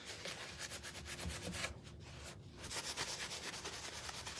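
Wood for a spring bunny door hanger is rubbed with sandpaper in quick, rhythmic back-and-forth strokes, soft and close, with a brief pause partway through and no talking.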